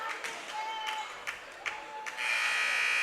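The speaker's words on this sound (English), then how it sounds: "Buzzer sounds" Bright electronic buzzer tones sound in short repeated bursts, ending in a longer sustained buzz, with crowd noise in the background at a girls' varsity volleyball game.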